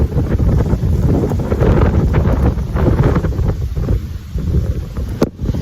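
Strong typhoon wind in Hsinchu buffets the microphone in loud, rumbling gusts, with a steady roar and a sharp crackle near the end.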